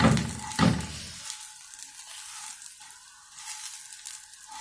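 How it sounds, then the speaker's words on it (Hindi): Vermicelli (sevaiyan) fries in hot oil with an initial loud crackling burst, then settles into a softer, continuous close hiss. No speech. "सेवइयाँ ऐड करें, इनको हल्का हल्का फ्राई कर लें।"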